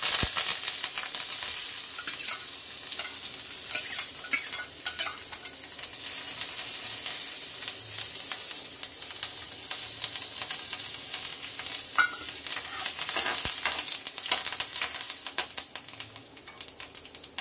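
Red chili and curry leaves with coriander fry in hot oil for homemade tomato soup, a steady crackling sizzle running throughout with occasional stirring scrapes, close and continuous with no talking.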